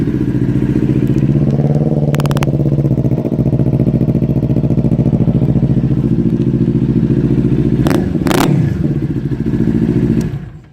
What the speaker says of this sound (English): Nice exhaust note from that Two Brothers exhaust.